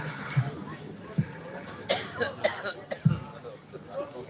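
Several short, sharp coughs scattered between quiet stretches, close to the microphone, with a few throat-clearing bursts.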